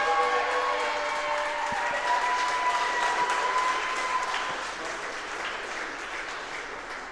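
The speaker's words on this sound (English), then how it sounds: "let's give one more round of applause to all athletes" Sustained applause from a crowd of spectators at an outdoor athletic competition, the Battle of Mossy Creek, greeting the winners; dense, steady clapping with cheers, fading slightly toward the end.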